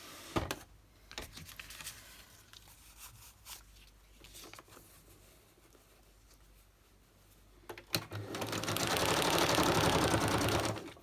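A sewing machine stitches around decorations on a handmade Christmas folder, a steady fast whirring burst running loud and close toward the end after softer tapping and handling noises earlier.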